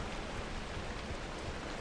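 Steady rain in the video game Pacific Drive, a faint, even hiss of falling drops with no breaks, heard alone.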